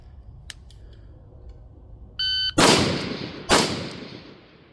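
Two loud, sharp rifle shots from a 14.5 inch recce rifle fitted with a flash hider crack close by, about a second apart, each ringing out briefly, after a short electronic tone and some faint clicks.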